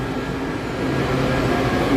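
A Washington DC metro train at McPherson Square station, a loud, close, steady low rumble and roar of the moving train that swells slightly, with no talk.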